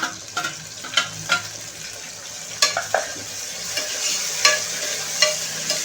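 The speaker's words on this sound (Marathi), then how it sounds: "टोमॅटो पण छान मऊ होईपर्यंत शिजवून घ्यायचा आहे." Onion and tomato fry in a pan for moong khichadi, a continuous sizzle broken by repeated scraping and clinking stirs throughout.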